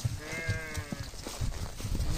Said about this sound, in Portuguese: Começando aqui com essa maloca de ovelha